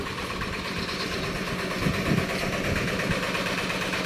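A yacht's engine runs in its unfinished engine room, a steady low droning rumble with vibration that fills the space at constant level, with no speech over it.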